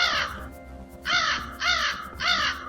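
Three loud, harsh crow caws ring out in a steady rhythm, each a descending rasp about half a second long, used as a sound effect in a Halloween story set at a lake house, with no talking over them.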